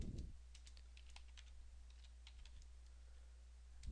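Quiet typing on a computer keyboard, a scatter of soft key clicks in an irregular rhythm over a steady low hum, close and faint, with no speech.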